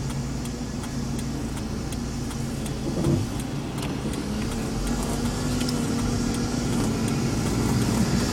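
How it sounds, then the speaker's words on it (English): A cash truck on a morning road in Frederick approaches as a steady engine rumble that swells gradually, with a brief louder bump partway through and no talking. "here comes my truck"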